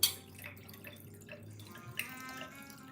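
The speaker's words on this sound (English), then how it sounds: "It's a red sweet wine. And it's off the chain. I'm getting ready to introduce you guys to it. Oh my God. Let's pour up a bale." Red sweet wine pours into a glass in a quiet room, a soft close trickle with faint splashes and a light clink near the start and partway through.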